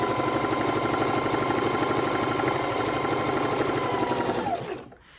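A sewing machine stitches a log cabin quilt block in a close, steady, fast mechanical run that holds evenly for about five seconds, then winds down and stops.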